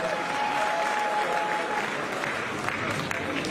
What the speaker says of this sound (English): can we give him a round of applause, a louder one as we welcome him to the microphone